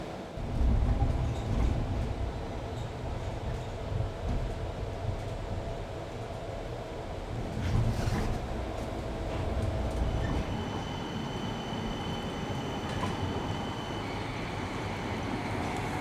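A Uithoflijn tram in Utrecht travels between stations, giving a steady rumble of the rail car with wheel and track noise at even loudness and a faint high whine from about ten seconds on. No one speaks.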